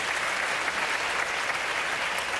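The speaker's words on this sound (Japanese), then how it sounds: "福岡から今拍手が起きて" Crowd applause rises from spectators in Fukuoka during a men's table tennis final, a continuous dense clapping that holds steady and fairly loud throughout.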